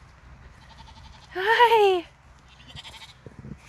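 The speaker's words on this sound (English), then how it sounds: "Oh, here's the sheep." A farm sheep gives one loud, close bleat lasting about half a second amid quiet outdoor background, with a brief spoken greeting nearby.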